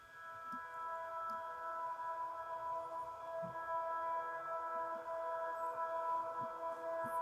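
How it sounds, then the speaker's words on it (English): A sustained, airy piano pad run through Logic Space Designer reverb with long tails holds steady chords, soft low knocks occasionally sounding beneath it. "That pad is basically just a piano sound"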